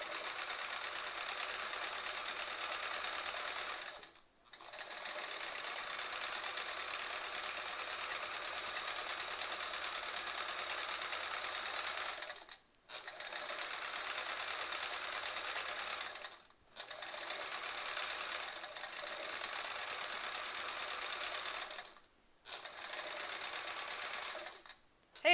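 A sewing machine stitches a quilt in long, steady runs of rapid mechanical whirring, stopping briefly four times between bursts; the sound is close but fairly quiet, with no talking.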